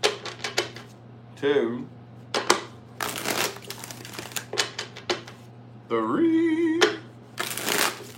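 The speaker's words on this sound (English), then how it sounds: "Let me get 6 shuffles for the 6 of Swords." Tarot cards shuffled by hand in a run of short, crisp riffling bursts, each a second or so, with a voice counting between them.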